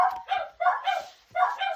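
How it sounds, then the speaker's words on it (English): Several dogs barking indoors in sharp, repeated bursts, loud and close, with brief pauses between the volleys. "Sorry about my dogs barking."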